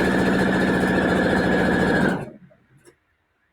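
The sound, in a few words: sewing machine stitching the top seam of a fabric mask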